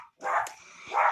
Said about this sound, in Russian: Как вы уже поняли, видео, где будет собака Маша.